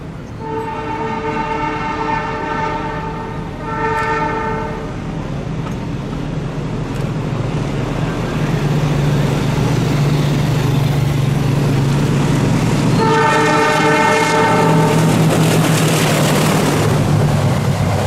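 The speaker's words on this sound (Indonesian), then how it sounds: "lokomotif CC20611 dengan stiker 80 tahun kemerdekaan yang menarik rangkaian kereta api Sancaka tujuan Surabaya" Indonesian locomotive CC20611 pulling the Sancaka passenger train toward Surabaya rumbles past, loud and steady, sounding its horn in two short blasts early on and again in a longer blast near the end.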